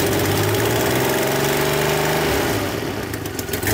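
A DeLorean engine runs loud and close, its rough, uneven note rising as it is revved after old gas was cleaned out, with the engine running less than perfectly and no voices over it.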